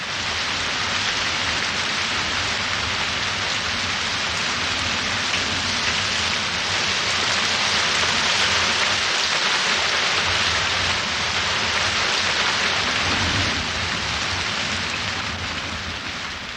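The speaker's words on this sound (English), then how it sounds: "After 4 dry months, the rains return with a vengeance." Heavy tropical rain pours steadily in Belize as the wet season returns after four dry months, a dense, continuous roar of drops hitting foliage and ground, loud and unbroken throughout with no voices.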